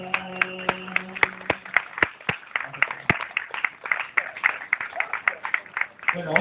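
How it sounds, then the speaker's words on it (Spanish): A live audience at an outdoor tribute concert in a plaza claps steadily after a song, with dense, continuous applause and a few sharp, close claps standing out throughout. "otro aplauso para todos los cantores populares"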